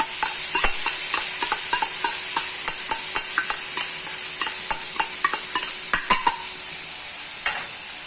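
A ground spice mix of meat masala and crushed dried chilli is stirred in a hot pan, quick repeated scrapes of a spatula ticking over a bright, constant sizzle close by.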